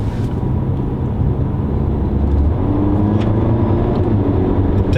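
Audi A5 Sportback TFSI Quattro accelerating with its transmission in sport mode, a loud steady engine drone heard from inside the car with rising low rumble and road noise, no talking.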